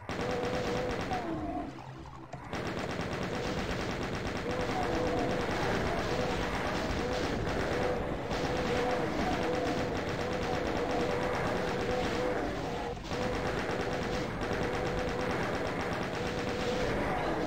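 Rapid, sustained chain gun fire in a video game on the Sunder map, a dense continuous automatic roar broken by a short lull near the start and a brief dip later, with faint talk underneath.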